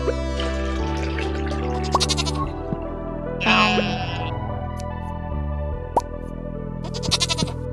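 Sheep bleat in the farming video game Stardew Valley: a short bleat about midway, with more fragments near the end, over steady game music with light plinking tones.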